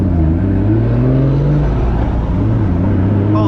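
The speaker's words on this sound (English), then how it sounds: "Holy crap, that truck just scared me." A loud motor vehicle roars close by in traffic, with heavy low engine rumble that swells and eases as the truck goes past.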